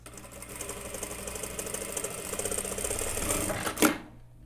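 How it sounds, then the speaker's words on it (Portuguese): A sewing machine stitches the curved edge of flared denim shorts in a steady, fast mechanical run that builds slightly, then stops abruptly and leaves near silence. "Já vou acertar as pontinhas e venho costurando esse contorno aqui. Mantendo a mesma distância na costura."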